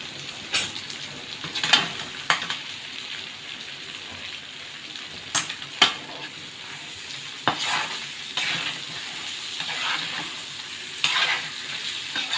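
Curry leaves fry in biryani masala for mutton biryani while a spoon stirs, giving a steady sizzle broken by sharp scraping clicks at irregular intervals, close and without speech.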